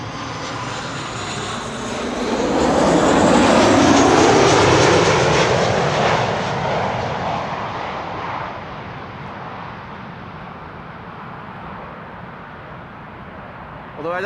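A fixed-wing airliner arriving at Amsterdam Schiphol Airport roars loudly overhead, swelling to a peak and then fading into a long receding rumble, with a voice talking faintly in the background.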